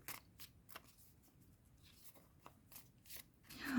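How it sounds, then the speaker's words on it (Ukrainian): Oracle cards of an unusual shape being shuffled by hand, a quiet series of soft flicking riffles repeating irregularly at close range. "Дуже її незручно, звісно, тасувати, тому що треба звикнути до такої форми."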